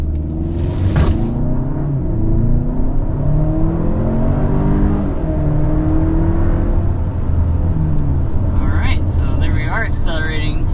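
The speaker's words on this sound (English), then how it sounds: "showing you what this powertrain is like under a hard acceleration" A 2024 Kia Sorento accelerates hard, a loud, close engine rumble rising through the gears with whirring drivetrain tones, while a voice talks throughout.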